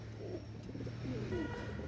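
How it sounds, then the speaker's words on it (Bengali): A pair of Kaldam pigeons cooing close by: several soft, rolling coos in sequence over a steady low hum, with no talking. "একজোড়া কালদম কবুতর মাশাআল্লাহ"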